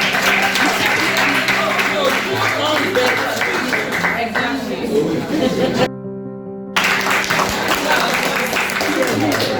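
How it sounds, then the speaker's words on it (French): Audience applause in a classroom-style presentation at a French-language cultural centre, a steady wash of clapping with some chatter that runs nearly the whole time, broken by a short dropout. "veuillez applaudir le groupe A1 avec gastronomie. Applaudissez-les."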